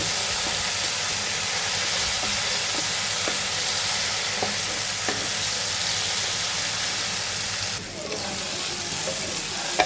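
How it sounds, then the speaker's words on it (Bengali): Tomato sauce and soy sauce frying in a hot pan, a steady loud sizzle and hiss filling the whole stretch with faint occasional stirring clicks and no talk. "ভালো করে এগুলাকে ভেজে নেব।"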